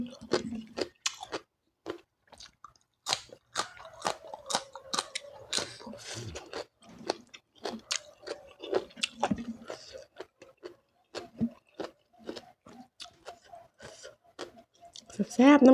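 Someone eats spicy Thai papaya salad with plump cherry snails and water spinach, with close, wet crunching and smacking bites repeating irregularly, broken by short vocal murmurs.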